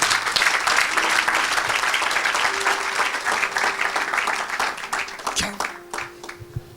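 A church audience at a live deliverance service applauds loudly, with dense continuous clapping that tapers into scattered claps, while voices and faint tones sound underneath.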